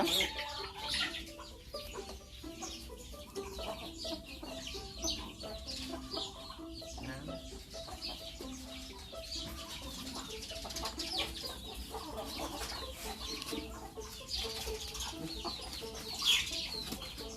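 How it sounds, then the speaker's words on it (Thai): Farm chickens with chicks clucking and peeping continuously over a low background rumble, a busy flock close by with occasional wing flaps and no talk. "ระวังเหยียบลูกไก่นะ"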